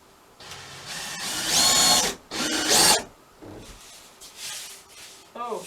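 A power drill drives a screw into accent wall board in two loud whirring bursts, each about a second long, with quieter handling noise and a voice in between.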